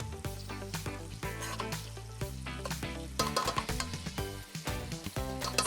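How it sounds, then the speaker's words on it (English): Mixed vegetables stir frying in a pan, with a steady sizzle broken by clattering stirs and tosses. "So just 2 minutes of stir frying and already this smells amazing."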